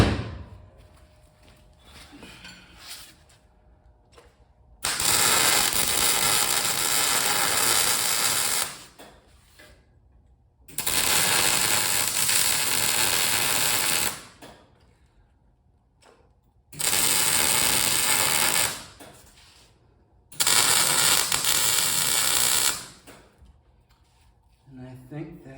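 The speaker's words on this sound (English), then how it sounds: "All right, so now I'm gonna weld that shovel on tight." A shovel being welded onto a metal bird sculpture: four sustained bursts of loud, broadband crackling buzz, each lasting several seconds, separated by quieter pauses with faint clanks and handling noise.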